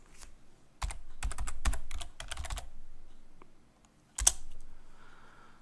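A password being tapped out on a computer keyboard, close up, in quick bursts of crisp keystrokes with short pauses between them and a final sharp key press, no voices.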